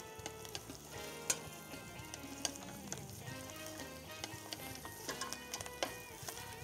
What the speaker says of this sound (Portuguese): Vamos então saltear aqui um pouco o alho com os coentros